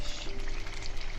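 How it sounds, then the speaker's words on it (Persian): Garlic frying in hot oil gives a steady, close sizzle, a brief crackling hiss with no pauses. "سیر رو سرخ میکنم"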